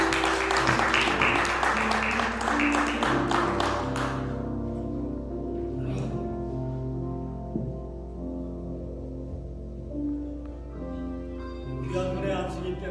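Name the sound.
congregation applause at an ordination service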